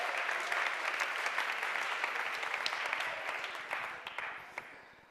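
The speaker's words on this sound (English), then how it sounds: "big hand of applause for the youngest person in the room" An audience at a strategy slam event in Vienna gives a steady burst of applause, dense and close, thinning slightly toward the end.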